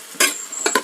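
Onions being stirred in a pan, two or three short scraping strokes of a spoon over a soft sizzle, close and brief.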